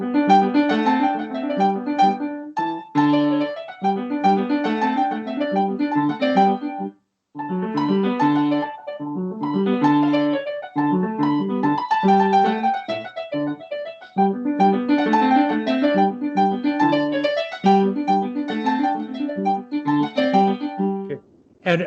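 A young piano student plays the first variation of a lesson piece, a steady stream of clear, bouncy notes and chords with brief pauses between phrases, with no talking over it.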